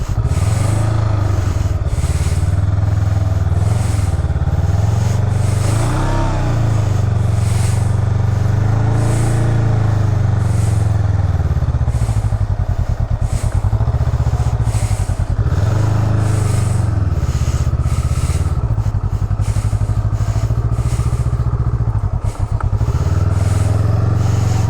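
Motorcycle ridden through slow U-turns and a figure 8 in a parking lot, a loud continuous engine drone that rises and falls with the throttle on each turn, close up and alone with no voices.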